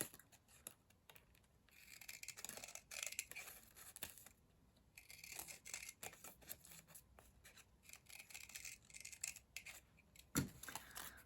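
Scissors cutting printable paper flower petals, snipping close up in a steady series of short, crisp cuts at a quiet level, with no talking.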